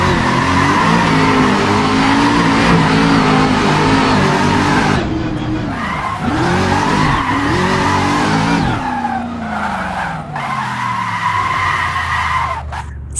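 Drifting car in the Assetto Corsa racing game, a loud continuous tire squeal and skid over a revving engine, the pitch sweeping up and down as the car swings through the slide, then easing off near the end.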